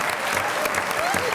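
A studio audience on a Pakistani comedy talk show bursts into applause, a dense, steady clapping that fills the whole brief moment without any voices.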